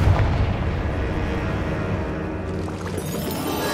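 Continuous booming, rumbling blasts from a Confringo fire spell in Hogwarts Legacy, loud and dense throughout with layered explosive bursts and crackle, no talking.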